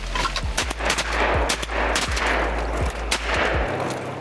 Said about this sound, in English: I shot once and then realized I didn't have any more shells in my gun